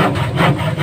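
A hand saw, dull and cutting somewhat rough wood while building a bamboo-and-wood nipa hut, rasps in steady close strokes with no talk.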